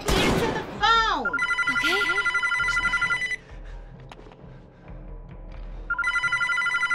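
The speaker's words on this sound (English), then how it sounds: "Mom, the phone's ringing." Telephone bell rings loudly in repeated bursts, pausing and then ringing again, while voices call out over it in a home setting.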